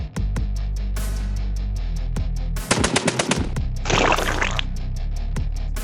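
Automatic gunfire from a turret opening up on zombies in a Gaslands deathmatch arena, sharp rapid shots in bursts over a steady low engine drone, with a denser clattering stretch in the middle.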